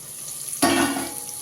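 Large onions drop into a hot pan already holding whole spices and ground paste for mushroom white biryani, setting off a sudden loud burst of sizzling that then settles into a steady frying hiss.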